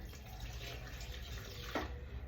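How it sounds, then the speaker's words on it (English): Warm water pours steadily into sourdough bread dough, a soft continuous trickle heard close and alone, with a small splash near the end. "We're going to add 1 1/4 cups of warm water"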